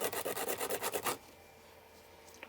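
Coarse 150-grit sandpaper rasps back and forth on a small 3D-printed piece in about eight quick, rhythmic strokes over the first second. After that comes quiet room tone with a faint tap.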